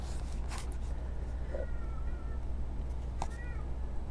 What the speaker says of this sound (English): Oh, God, the cat's back.